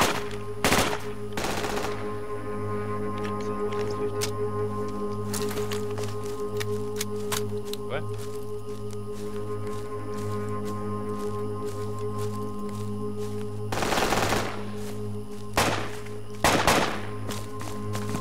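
Gunfire in Battlefield 2 Project Reality, sharp isolated shots and short bursts cracking at irregular intervals over a constant low mechanical hum.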